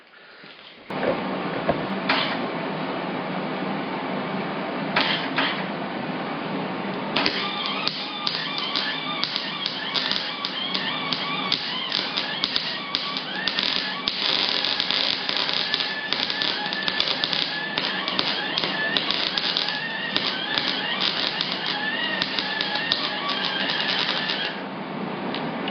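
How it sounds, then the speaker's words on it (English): A MIG welder running off a 3000W inverter welds a piece of metal, giving a continuous crackling, buzzing arc with rapid irregular pops, steady and close for over twenty seconds after a brief start. "Let's see if it works with the MIG welder."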